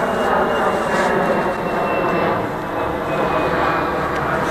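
An airplane passes overhead as a loud, steady broadband roar that swells and eases slightly, with a faint whine running through it.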